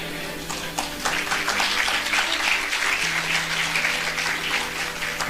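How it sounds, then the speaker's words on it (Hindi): Audience clapping at a Christian preacher's sermon, a dense sustained patter of many hands at moderate volume over a low steady hum, with no clear voice above it. "देखो तालियां बज रही हैं"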